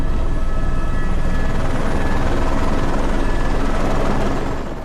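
Rescue helicopter hovering close by in a crosswind, a loud, steady rotor and engine roar with dense rapid blade chop that fills the whole stretch and fades slightly at the end.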